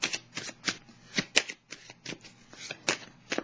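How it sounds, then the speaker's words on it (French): Tarot cards being shuffled and drawn during a reading, with crisp riffling flicks and slaps in an irregular rhythm, close by and alone, with no voice. "je vais juste piger une carte sur celle de la mer"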